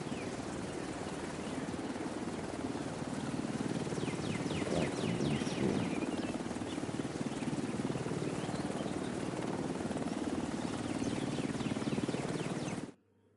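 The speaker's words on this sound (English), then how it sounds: "Okay, let's go to the chopper." Helicopter in the video game The Division 2, a steady loud rotor roar with rhythmic blade chop, continuous throughout and close, ending abruptly.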